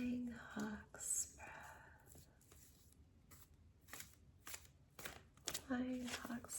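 Tarot cards shuffled by hand in a series of quick, close papery riffle bursts separated by short pauses, with a soft whispery voice and quiet room tone underneath.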